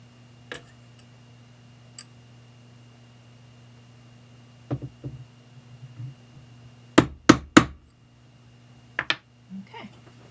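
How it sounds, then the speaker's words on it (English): Sharp metallic taps of a hammer striking a punch into metal to make a divot for drilling, a few scattered single hits then a quick cluster of three strong blows, over a steady hum. "let's make a little divot with a punch so that our drill bit has a little groove to get started"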